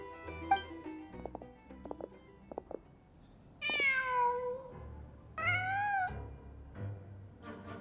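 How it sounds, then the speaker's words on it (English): A cat in the game Genshin Impact gives two clear, drawn-out meows a second or so apart, sounding close and alone against a quiet ambient background with a few soft taps before them. "Huh. Just a cat."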